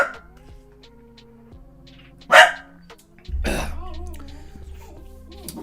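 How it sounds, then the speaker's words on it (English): A dog gives a loud, brief bark near the middle, followed by a harsher bark-like burst, with someone talking before and after. "Why are you barking?"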